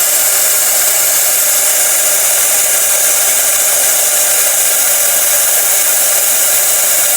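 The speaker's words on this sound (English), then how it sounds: "So I'm blowing cold air on that sensor." A blower pushes cold air onto the cabin temperature sensor of a 2010 Kia Forte with poor heater temperature control, a loud, steady, unbroken hiss of rushing air with no talk.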